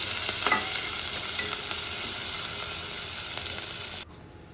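Finely chopped green chillies and onion fry in hot tempering oil with a loud, continuous close sizzle and light stirring, then the sound stops abruptly near the end.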